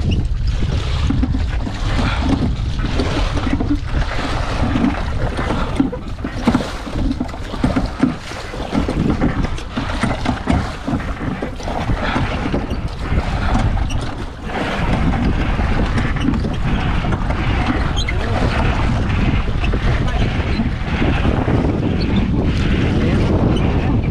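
A rowing boat travels on the open sea between Kochi and Kollam, with steady wind buffeting the microphone, water rushing and splashing against the hull, and continuous loud noise throughout.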